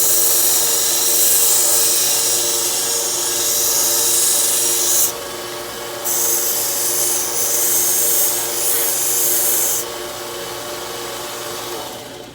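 Steady rubbing rasp of a silverplated butter knife being sanded and ground into a feather shape, continuous and close, with a brief pause in the bright scraping midway.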